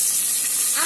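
Hot oil sizzles in a pan while frying ingredients for a mutton gravy, a brief, loud, steady hiss with a bright, spitting texture.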